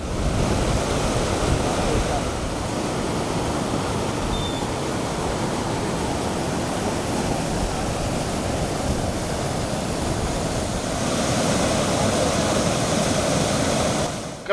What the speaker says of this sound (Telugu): ఒకసారి వాటర్ ఫ్లో చూడండి ఎంత భయంకరంగా ఉందో